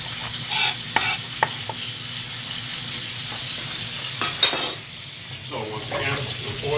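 Green beans, peppers and onions frying in oil in a large skillet, a steady soft sizzle broken by utensil clinks and scraping stirs against the pan, close by.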